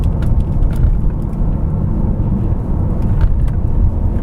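A stock BMW F10 M5 V8 engine runs with a steady, muted low rumble that holds at an even level throughout, with no voices over it.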